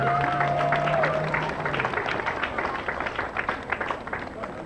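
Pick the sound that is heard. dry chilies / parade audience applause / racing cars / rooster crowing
parade audience applause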